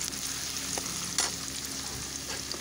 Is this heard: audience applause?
no